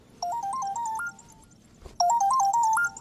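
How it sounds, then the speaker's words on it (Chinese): A phone plays a melodic electronic ringtone. A short rising tune sounds, stops, and then repeats after a brief pause, clear and fairly loud against a quiet room. "电话"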